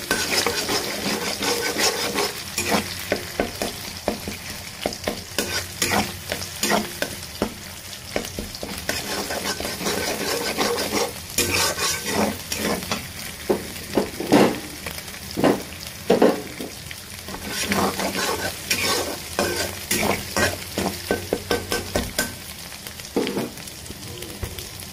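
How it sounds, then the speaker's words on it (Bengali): Ground prawn paste fries in a pan for a winter vegetable curry, with a continuous sizzle broken by rapid, repeated stirring scrapes and clinks of the utensil against the pan; no voices. "এর ভেতর এখন আমি চিংড়ি বাটা দিয়ে দেব। এটাকে ভালোভাবে ভেজে নিতে হবে।"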